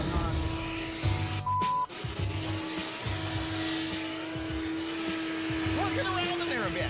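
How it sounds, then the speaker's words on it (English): A steady mechanical whine drones throughout, like a vacuum cleaner running, with brief clunks and a short interruption early on. "You got a vacuum cleaner?"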